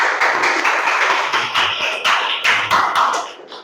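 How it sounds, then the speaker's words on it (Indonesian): Audience applause in a classroom presentation setting, a steady dense clatter of many hands clapping close by, sustained evenly for several seconds without talk. "Berikan aplaus"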